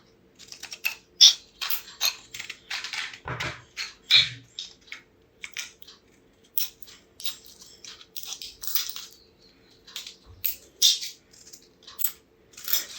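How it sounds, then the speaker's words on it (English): Rapid series of crisp snipping and crunching cuts of scissors through plastic packaging, close up, in short irregular bursts with brief pauses, no talking. "You can see how easily it was able to open the cut off this packaging"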